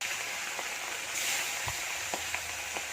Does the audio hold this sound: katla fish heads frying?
yes